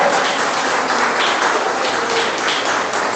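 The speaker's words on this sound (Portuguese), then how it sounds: "Você pode dar um aplauso ao Senhor Jesus?" A church congregation applauds Jesus during a sermon, dense clapping that fills the room evenly for a few seconds, with no talking on top.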